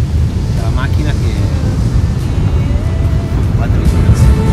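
Strong crosswind gusting around 80 km/h buffets a car driving on an Icelandic road, a steady loud roar of wind and road rumble throughout, with no pauses.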